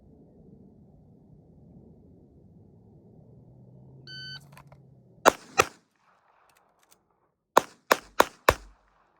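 Sharp pistol shots crack out during a concealed-carry shooting drill, two close reports, a pause during a slide-lock reload, then a fast string of four shots, with faint handling noise and a short electronic beep before the first pair.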